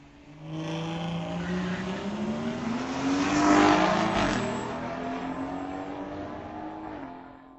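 Drag race at Mission Raceway Park, a 2018 BMW against a 2000 Honda Civic: loud engines rev and accelerate hard with rising pitch, a roar that peaks midway and then fades as the cars pull away.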